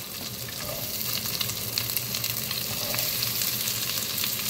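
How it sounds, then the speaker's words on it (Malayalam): Onion, garlic and ginger fry in a mix of butter and olive oil, giving a steady, close hiss and crackle of sizzling that carries on without a break, with faint stirring underneath and nobody talking. "നമ്മുടെ ഒനിയനും ഗാർലിക്കും ജിഞ്ചറും എല്ലാം കൂടെ ഞാൻ ഇതിനകത്ത് ഇട്ട് കൊടുത്തിട്ടുണ്ട്."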